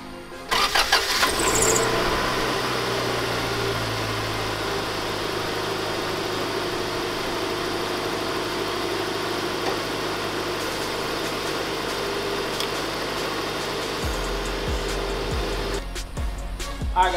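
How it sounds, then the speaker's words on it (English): A Honda car engine cranks and catches, then settles into a steady, loud idle held close by for about fifteen seconds, with a few clicks near the end. "I'm finna give y'all a start up on this Honda so we can make sure everything together"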